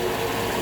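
A 5.3L Chevy Vortec V8 makes a steady, rapid mechanical ticking at close range, an even, continuous clatter that eases off as the engine warms up.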